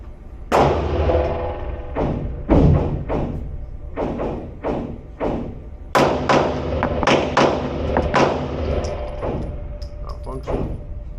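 Canik TTI Combat pistol fired in doubles at 21 feet with competition loads: loud, close gunshots in quick pairs and short strings, each with a sharp crack and brief ring, separated by short pauses.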